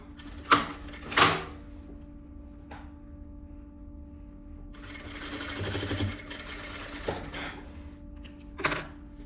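A sewing machine stitches tape onto a vest, with a couple of sharp mechanical clicks and handling knocks first, then a steady run of rapid stitching lasting a couple of seconds, and a final click.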